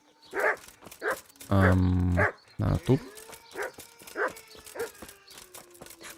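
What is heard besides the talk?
dog barking in video game Kingdom Come: Deliverance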